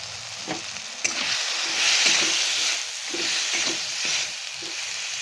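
Ginger garlic paste, turmeric and chilli powder fry for egg curry in a pan, giving a steady, loud sizzle with a few soft stirring scrapes throughout.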